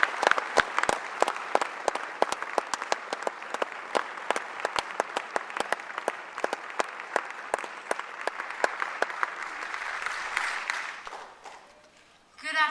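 Audience applause greets a speaker taking the stage at an Asha Kiran event, a steady wash of many clapping hands lasting about eleven seconds before fading out, with a brief rise at the very end.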